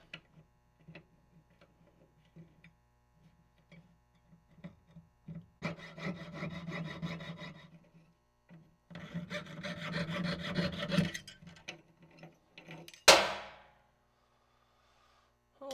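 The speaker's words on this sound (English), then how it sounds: "Then I'm going to cut the center out as opposed to filing." A coin is cut out at the center to make a WWII trench art ring, with short bursts of close rasping, sawing strokes separated by pauses and small tool taps, ending in a sharp metallic clink.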